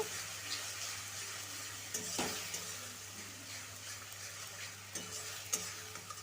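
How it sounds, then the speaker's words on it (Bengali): Grated tomato sautéing in a pan over a low gas flame, a soft steady sizzle under a low hum, broken by a few scraping stirs of a spoon, fairly quiet and with no talk. "একটা বড় মতো টমেটোকে গ্রেট করে দিয়ে দিলাম টমেটোটাকে দিয়ে গ্যাসটাকে কমিয়ে ভালো করে কষিয়ে নেব"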